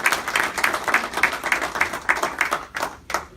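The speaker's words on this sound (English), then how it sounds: "let's give a big round of applause for Greg Rothman" A round of applause for Greg Rothman at a political gathering, a small group clapping in a fairly regular rhythm that thins out and fades toward the end.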